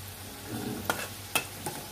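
Potato pakoras frying in hot oil give a soft low sizzle, broken by a few sharp clicks and scrapes from stirring in the pan.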